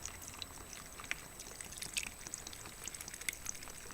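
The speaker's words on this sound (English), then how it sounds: "let's put in fresh water." Fresh regular water pours into a container as a faint, steady trickle with scattered small splashes and drips, quiet and close, with no talking.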